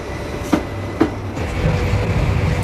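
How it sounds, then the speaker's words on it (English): An express train from Cardiff to London Paddington rumbles steadily along the rails with two distinct rhythmic clacks of wheels over track joints, a continuous low roar throughout. "the 3:18 express train left Cardiff for London Paddington"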